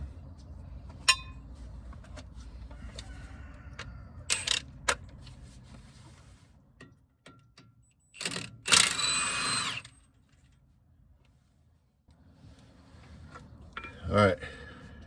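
Snap-on sockets clink and rattle as they are handled for front hub work on a Ford F250, with scattered sharp metallic taps, a burst of rummaging near the middle and another brief clatter at the end, nearby and moderately loud.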